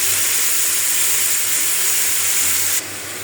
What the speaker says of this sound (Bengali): আমি মিষ্টি কুমড়া একটু ভেজে নিচ্ছি।